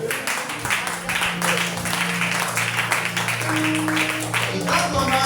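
A church congregation applauds to acclaim the Lord, a dense, sustained wash of clapping mixed with voices and sustained musical tones throughout.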